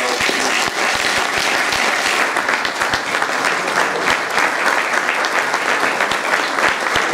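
An audience at an officers' association swearing-in ceremony applauds, a full sustained round of clapping from many hands, loud and even, with no voice over it.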